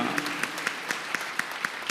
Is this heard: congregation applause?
yes